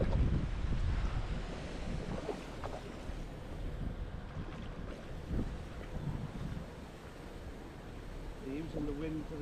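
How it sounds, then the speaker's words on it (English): Gale-force wind gusting across an open stillwater trout lake, a steady roaring rumble with buffeting bursts against the microphone, plus faint voices and some lapping water. "now the wind blowing this way"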